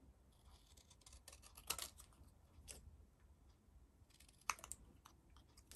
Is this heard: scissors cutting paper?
yes